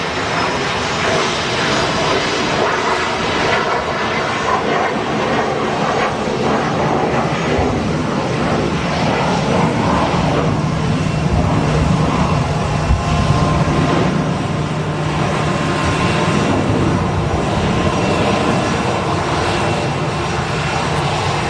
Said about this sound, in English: Jet2 A321 taxiing past the celebrity, or the ex-celebrity, I guess you call that.